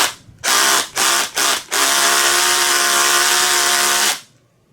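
A power drill drives a screw into a painted Fender bass body, whirring loudly in a few short bursts before one sustained run and an abrupt stop.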